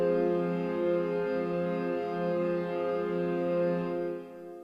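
A warm synth pad layer from Spitfire Audio Media Toolkit holds a steady chord with gentle swelling motion for several seconds before tapering off, soft and alone.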